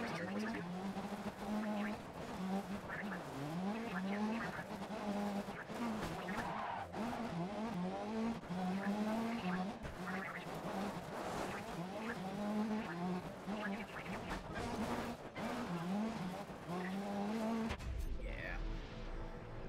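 Racing video game on PC: engines whine steadily and rise and fall through gear changes, with tire squeal and skidding mixed in, loud and continuous until the final seconds.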